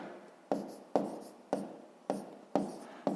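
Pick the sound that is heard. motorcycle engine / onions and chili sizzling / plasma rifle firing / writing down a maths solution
writing down a maths solution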